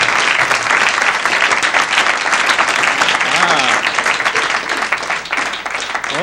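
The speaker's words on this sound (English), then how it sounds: "Please, a nice round of applause for Mr. Jim Carey." A comedy club audience gives a comedian dense, sustained applause for about six seconds, loud and close, with some crowd voices mixed in.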